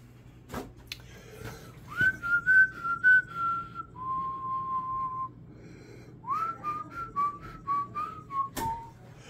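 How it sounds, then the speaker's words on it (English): A person whistles a simple tune alone, clear and close, with held notes and short phrases separated by brief pauses. "here I am humming and whistling"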